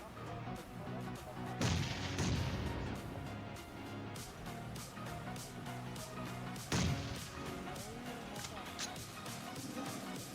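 Rapid bursts of automatic gunfire from teammates laying down cover fire in the PUBG Mobile video game, with two heavier blasts standing out among steady repeated shots.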